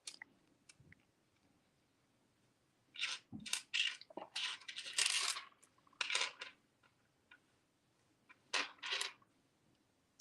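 Small metal coin beads handled for chandelier chain earrings, close faint clicks and rattling clusters as pieces are sifted and picked up, in short bursts with quiet gaps.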